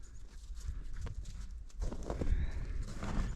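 Cows walking up for feed on a snowy farm, with soft repeated hoof thuds on the ground close by and low rustling, and no talk.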